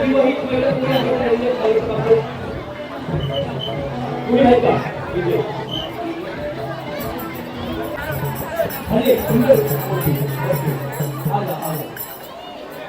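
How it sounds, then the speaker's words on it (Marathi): A crowd of devotees queuing at a Mumbai temple fills the air with constant nearby chatter and babble, while individual voices rise and fall within the hubbub. "लाईन भरपूर आहे भरपूर गर्दी आहे"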